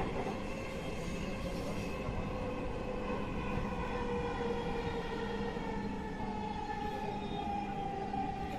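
A Dhaka metro rail train runs with a steady, loud rumble and a sustained high tonal whine from the wheels and motors, continuous throughout with no voices.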